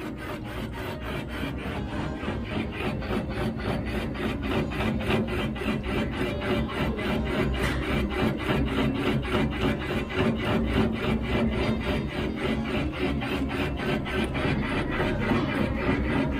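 Line boring machine cutting out a worn kingpin bore on a Scania truck axle, a steady grinding, rasping scrape with a fast regular chatter, loud and continuous for the whole stretch.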